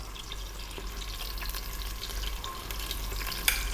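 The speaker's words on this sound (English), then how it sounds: "we're going to fry this around on an above medium heat just for about 3 or 4 minutes" Garlic and onions fry over above-medium heat in a pressure cooker pot, a steady hissing sizzle with occasional stirring scrapes and a low background hum.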